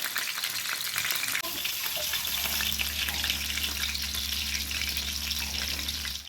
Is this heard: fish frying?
yes